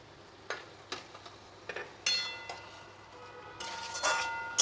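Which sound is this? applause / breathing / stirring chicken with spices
stirring chicken with spices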